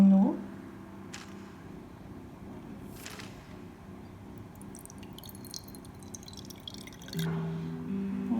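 Water, about 300 ml, poured onto a kitchen scale while preparing gluten-free bread; a faint trickle and scattered drips sit low under a quiet room hum, with a brief louder splash near the end.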